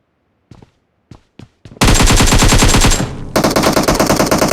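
Gunfire in the mobile game PUBG Mobile, with a few separate single shots and then loud, rapid continuous automatic bursts from an AK-type rifle, close and dense.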